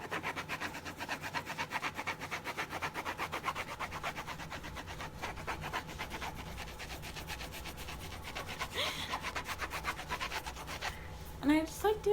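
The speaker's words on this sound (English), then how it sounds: "I got a canvas and crayons because I like the sound that it makes on the canvas" Crayons rubbed steadily across a canvas make a continuous dry scratching, with rapid repeated strokes close up and no talking.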